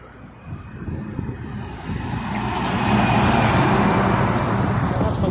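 Vehicles passing along a roadside highway, a broad close rumble of traffic that swells louder and steadier through the second half, with no voices.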